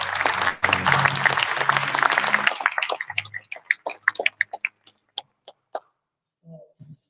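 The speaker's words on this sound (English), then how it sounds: "Please give a warm round of applause." An awards ceremony audience gives dense, loud applause that fades after a few seconds into scattered individual claps, finishing with a few last isolated ones and brief faint voices.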